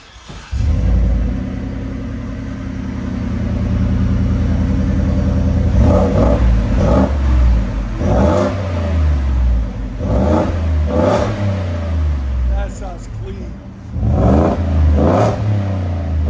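A 2024 Ford F-150 with a 5.0L Coyote V8, cold air intake and Borla XR-1 Sportsman exhaust idles with a deep rumble, then gives a series of sharp revs that swell and drop, loud and close with no talk.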